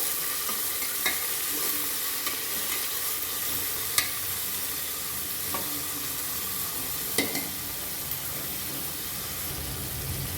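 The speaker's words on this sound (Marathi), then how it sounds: "त्याचबरोबर आपल्याला टमाटा पण टाकून द्यायचा आहे तेलात कांद्यासोबत टमाटा पण आपला चांगला फ्राय करून घ्यायचा आहे कांद्याबरोबर" Onion and tomato fry in hot oil with a constant, dense hiss of sizzling, and a few soft knocks of a stirring spoon rise out of it now and then, near and steady with no talking.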